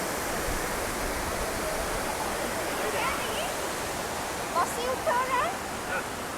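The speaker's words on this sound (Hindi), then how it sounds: "छोटा सा वाटरफॉल है ये, और ये नेचुरल वाटरफॉल है" A small natural waterfall at Tamhini Ghat in the Kundalika Valley, fed by water running off the hills, gives a steady, dense rush of falling water close by, and a few faint bird calls rise above it.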